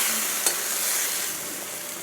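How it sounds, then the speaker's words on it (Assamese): Bottle gourd leaves fry in a pan with a soft continuous sizzle, joined by a single quick clink of the spoon as they are stirred; the sound is brief and fairly quiet. "চব্জিখিনি দি দিম। এইখিনি অকণমান লৰাই দিব।"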